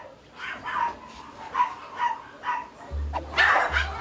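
A recovered pet dog at a dog-washing and care spot in Korea barks in a run of about half a dozen moderate, evenly spaced barks, with a louder, sharper bark near the end over a low background hum.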